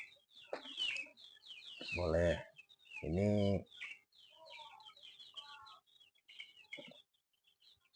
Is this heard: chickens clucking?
yes